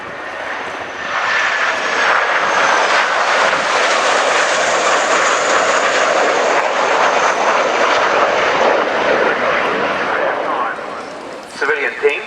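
Team Viper's civilian display aircraft roar past at the RNAS Culdrose airshow, a loud sustained engine rush swelling and fading over about twelve seconds, with a commentator's voice underneath.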